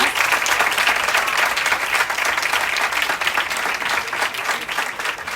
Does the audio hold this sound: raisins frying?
no